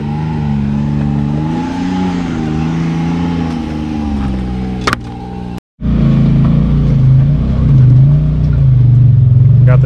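A Defender Pro side-by-side climbs a rocky hill at a hill-climb course. Its engine roars loud and close, rising and falling in pitch as it revs, cuts out for a moment, then snarls back in.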